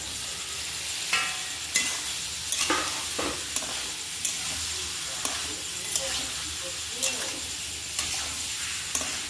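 Potatoes being stirred into hot oil in a pan for a vegetarian potato curry (aloo dum) with bay leaf, a steady sizzle and frying hiss with regular scraping stir strokes, close and moderately loud, no talking.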